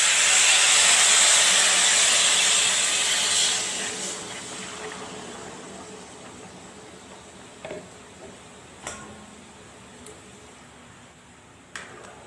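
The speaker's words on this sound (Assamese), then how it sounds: "এতিয়া মই পানী দি দিম" Water poured into a hot pot for Assamese-style khichdi sends up a loud burst of steam and hiss that slowly dies away, followed by a few sharp clicks and taps near the end.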